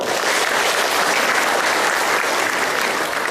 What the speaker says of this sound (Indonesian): tepuk tangan buat perawat